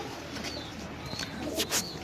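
A race pigeon at a busy pigeon market coos in low, soft calls over a constant crowd murmur, with faint chirps near the end of the short stretch.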